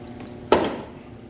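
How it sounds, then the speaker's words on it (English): Transmission oil from a Chevy plow truck's pan is dumped into a drain pan, making one sudden, close splash that fades quickly. "I'm gonna dump the oil in here so we look in the bottom of that pan to see what it looks like."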